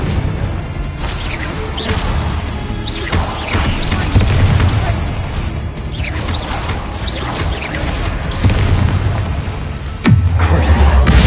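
Fiery Confringo blast spells exploding in Hogwarts Legacy, repeated whooshing bursts and booming impacts amid clanking combat sounds, loud and close.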